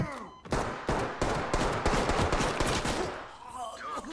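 Rapid bursts of gunfire in the tactical shooter game Ready or Not, a close, loud string of shots at an uneven rhythm that fades out near the end, with no voices over it.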